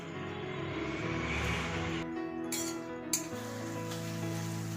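Ginger, garlic, green chilli and onion paste frying in oil for a prawn malai curry, a soft steady sizzle with light clinks of a utensil against the pan, no talking.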